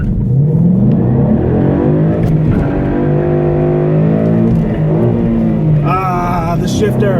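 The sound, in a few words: Mustang GT engine accelerating from a stop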